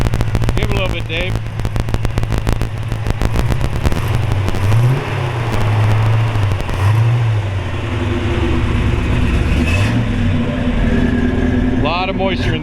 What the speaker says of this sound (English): we fired it up so we can rev it up here for you a little bit